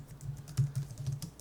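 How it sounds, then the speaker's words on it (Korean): Quick, uneven keystrokes tap on a computer keyboard as code is entered, a short run of light clicks close to the microphone with one firmer press midway, no voices. "맨 처음에 할 거는 import gym이라고 하는 걸 이제 타이핑을 할 건데요"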